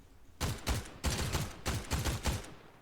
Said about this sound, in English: we do have quite a few shots over to the distance there